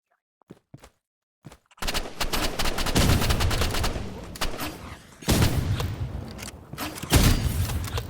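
Rapid automatic gunfire from a video game, loud and close, runs in long sustained bursts after a few scattered single shots, with brief gaps between volleys.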